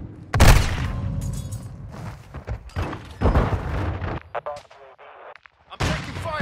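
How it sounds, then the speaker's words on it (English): A flash grenade and gunfire sound in a military shooter video game: loud sharp bangs and bursts of shots come in clusters, with radio-style voices calling out over the action. "Throwing flash grenade!"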